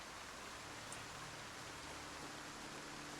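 Steady rain falling in the video game Project Zomboid, a constant soft hiss spread evenly across the whole stretch with no breaks, fairly faint and with no voices over it.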